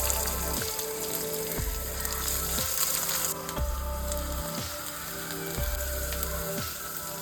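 Onions and carrot sizzle steadily in hot oil and ghee, a continuous bright frying hiss with a regular low pulsing thump underneath, close and alone without talk.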